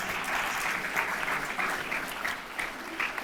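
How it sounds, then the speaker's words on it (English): Audience at a high school graduation ceremony clapping for the board president, a steady round of applause from a sizable crowd that holds evenly throughout, with a voice faintly mixed in. "Can we give our board president another round of applause at this time?"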